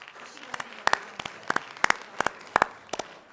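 A small audience at a Gallup McKinley County Schools board meeting gives a sparse round of applause: about eight distinct, fairly loud claps spaced evenly, with no talk.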